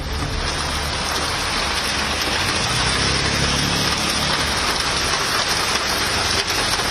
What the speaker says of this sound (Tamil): திடீரென மழை வெளுத்து வாங்கியதால் குளிர்ச்சியான சூழல் நிலவியது.